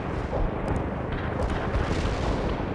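An artillery barrage in the video game World in Conflict: a continuous rolling, rumbling roar of distant shell impacts blending into a heavy, steady low thunder.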